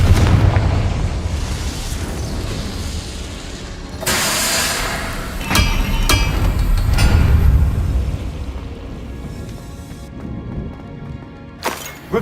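Fiery magical explosions from the Confringo spell in Hogwarts Legacy boom and rumble in several bursts, with sharp crackling impacts and low rolling blasts across the stretch.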